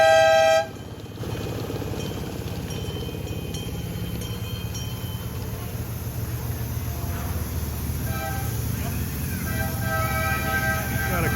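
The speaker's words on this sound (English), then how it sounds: "Got a couple of trains pulling in." Miniature live steam and diesel trains rumble and clatter along the track into a station, with a few horn toots near the start and again toward the end.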